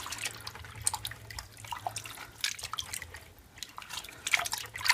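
Water from a running tap drips and trickles faintly as a crocheted bag is rinsed, with soft splashing and uneven droplets.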